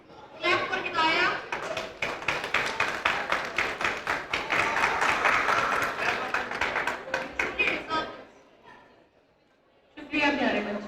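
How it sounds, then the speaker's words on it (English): Hearty clapping from an audience of children and adults at a school celebration prize-giving, a loud, fast burst of many hands lasting several seconds, then fading before a voice speaks again. "Clap for Hidayah."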